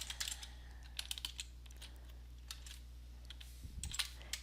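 Computer keyboard keys clatter in short bursts as JavaScript is typed into a browser console, with quiet pauses between the clusters of keystrokes under a low steady hum.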